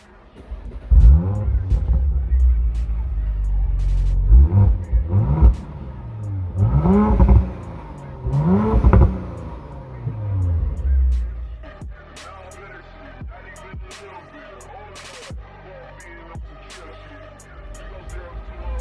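A 2018 Audi RS5 coupe engine revs hard several times through its exhaust with deep, rising roars, then settles into a lower burbling idle with occasional clicks and pops.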